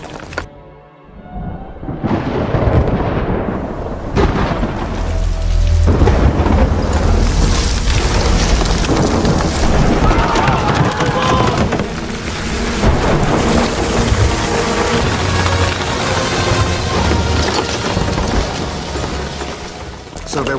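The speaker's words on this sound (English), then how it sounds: "Lord sent thunder and hail, and fire darted to the ground." Heavy thunder rumbles and booms over a dense roar of pelting hail and rain, loud and continuous throughout a fierce storm.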